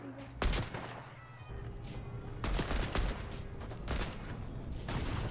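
Repeated gunfire in Fortnite: several loud bursts of rapid shots spread across the moment, with talking in between.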